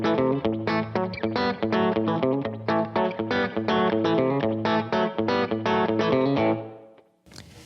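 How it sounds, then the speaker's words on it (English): Electric guitar played through spring reverb, a run of loud, evenly picked notes with a splashy, boingy tail, ending in a short gap before a final burst. "this is what spring reverb sounds like"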